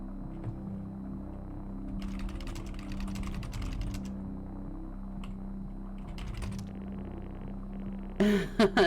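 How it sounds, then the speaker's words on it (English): Keyboard typing in the video game Stories Untold, bursts of quick key clicks in two clusters over a steady low electrical hum, ending with a short louder chime-like effect. "So I guess this is where I type and start this game."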